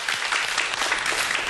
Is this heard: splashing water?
no